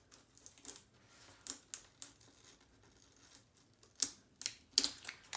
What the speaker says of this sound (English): now we're going to go ahead and try to peel back our transfer tape